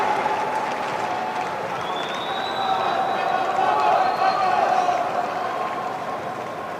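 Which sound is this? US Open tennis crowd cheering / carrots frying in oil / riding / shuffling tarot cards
US Open tennis crowd cheering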